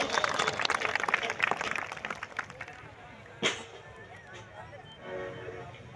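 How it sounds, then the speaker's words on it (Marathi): A crowd claps and cheers at a large devotional song show of Shivaji and Ambedkar songs. The applause is dense and busy in the first two seconds, then thins to scattered noise with one sharp knock midway. "एकदा जोरदार टाळ्या उद्या."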